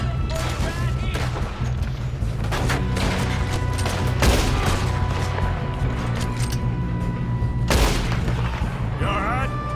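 Gunfire and blasts in the Red Dead Redemption II video game, with a set charge exploding. Loud, dense bursts of shots and booms run throughout, with heavier surges near the start and toward the end, and voices talk over them.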